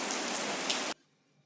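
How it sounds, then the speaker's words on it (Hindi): Heavy rain in a strong windstorm roars as a dense, loud hiss that cuts off abruptly near the end, leaving near silence. "बहुत तेज बारिश हो रही है और आंधी भी चल रही है"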